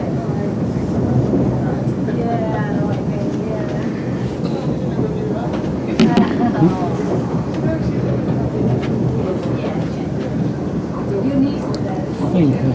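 Train rolling into Crewe station, a steady broadband rumble of wheels and carriage noise throughout, with a slight swell around the midpoint; a voice speaks over it.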